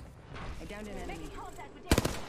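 A short burst of gunfire in the Apex Legends battle royale shooter: three or four loud, close shots fired in quick succession near the end of the clip, following a stretch of busy game noise with a talking voice.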